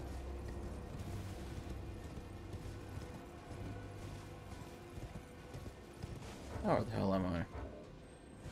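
Horse hooves clip-clop at a steady rhythm while riding in the video game Elden Ring, with a neigh-like burst toward the end, all under game ambience and a voice talking.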